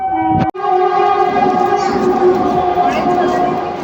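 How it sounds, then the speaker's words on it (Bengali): A train passes close by at Bally railway station, a loud sustained rumble with a strong ringing tonal horn or wheel squeal holding throughout, starting right after a brief sharp crack. "সামনে দিয়ে একটা ট্রেন বেরিয়ে গেল"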